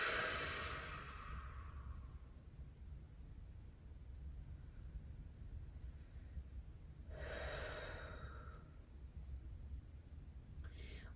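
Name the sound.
deep breathing, big inhales and exhales during yoga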